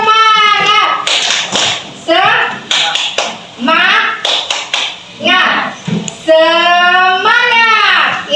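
Schoolchildren chanting and clapping the Indonesian 'tepuk semangat' cheer in a classroom, with bursts of taps and claps in rhythm under high, lively children's voices and an adult voice.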